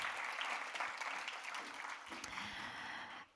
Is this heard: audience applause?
yes